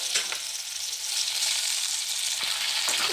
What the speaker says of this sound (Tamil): ஒரு தக்காளி, கொஞ்சமாக உப்பு சேர்த்து வதக்கிட்டு